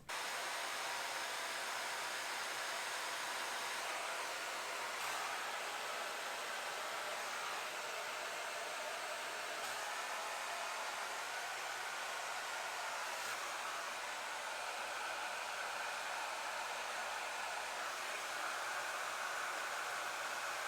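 A hair dryer blows continuously with a steady broadband whoosh, moderately loud and unchanging for about twenty seconds, with no talking.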